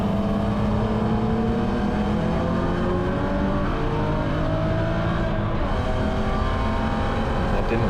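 A BMW Spec E9X race car engine roars continuously and loudly at close range through a Gridlife GLTC race at Gingerman, its pitch shifting as it brakes and accelerates through traffic.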